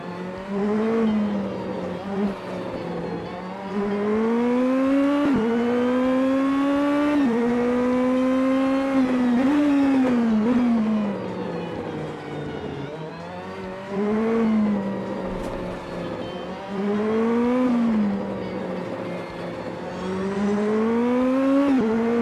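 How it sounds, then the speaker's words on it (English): A race car at the Detroit street circuit accelerates hard through repeated gear changes, its engine note climbing in pitch, dropping at each shift, then climbing again, loud and close for the whole stretch. "This car accelerates so quickly."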